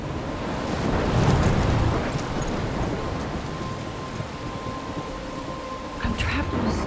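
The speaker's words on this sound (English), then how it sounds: "I'm trapped in a storm?" A thunderstorm with rain in the video game Life Is Strange, heavy rain hissing steadily while a low rumble of thunder swells early and fades into continuous downpour.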